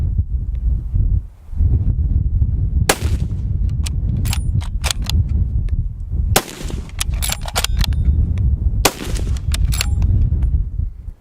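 Heavy rifle with a 26-inch barrel and muzzle brake fires three loud, sharp shots a few seconds apart outdoors, each with a booming crack and echo over steady wind noise.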